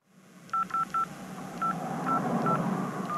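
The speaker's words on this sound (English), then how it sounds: "I'm calling Dr. Wallace." A telephone is dialed for a call, giving a series of short electronic keypad tones in an uneven sequence, about eight beeps, close and clear over a quiet room hum.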